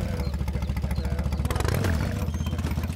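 A motor from the golf video game What the Golf chugs in rapid, regular pulses, then briefly swells and revs before settling back into its steady putter.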